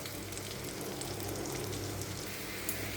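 Prawns fry with ginger, cumin and chili paste in a steady, dense sizzle that holds close and moderately loud for a few seconds, with a small pop near the end and no talk.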